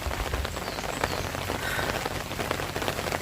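Steady rain falls on a hut in a rural grassy area, a dense, close patter of drops on the roof and ground that continues without a break.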